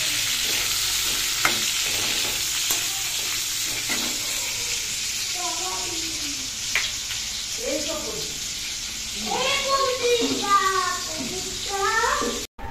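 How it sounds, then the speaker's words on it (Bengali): Pointed gourd (potol) fries in a pan for a potol-prawn curry, giving a steady close sizzle with scraping stirs, while a voice chirps over it in the later seconds. "আর এদিকে পটলগুলো ভাজছি পটল চিংড়ির জন্য।"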